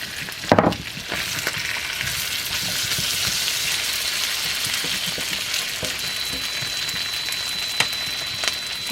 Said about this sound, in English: we'll fry these onions back up